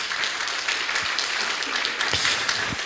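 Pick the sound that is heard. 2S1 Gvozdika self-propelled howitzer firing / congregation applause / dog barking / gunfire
congregation applause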